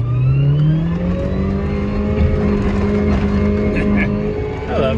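A Honda Civic tears across a muddy lawn, its engine revving hard and then holding a strained, wavering drone, loud and close, while a person talks over it.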